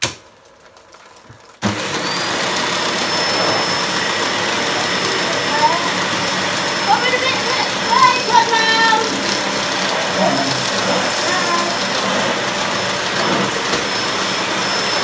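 A Dyson Motorhead upright vacuum cleaner switches on after a brief near-silence, then holds a loud, steady motor roar with a thin high whine, running continuously with a few faint bumps as it moves across the floor.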